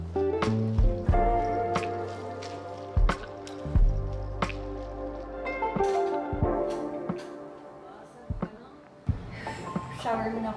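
Water splashing and dripping while a pet is washed, with irregular drips, squishes and trickles close by, under intermittent talk.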